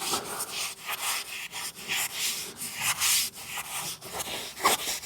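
A hand rubbing product into the surface of a BMW X5, with repeated rhythmic swishing strokes, close and steady, each stroke a soft abrasive rasp.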